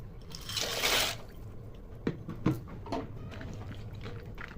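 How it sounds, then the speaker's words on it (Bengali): Dry pasta tipped into a pot of water, a brief broad splash and rustle up front, then a few soft plops and drips against a quiet background. "পাস্তাগুলো দিয়ে দেবো জলের মধ্যে"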